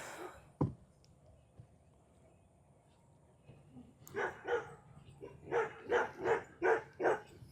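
Several dogs bark in a rapid burst of loud, closely spaced woofs near the end, after an earlier single bark and a stretch of quiet outdoor background, heard while a horse is being prepared for a first ride.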